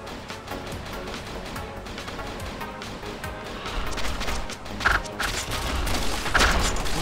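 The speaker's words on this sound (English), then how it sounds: "Here's our second gun, the machine gun." Machine gun in the video game Original Journey fires in dense, continuous bursts, loud and close, with heavier impact booms near the end.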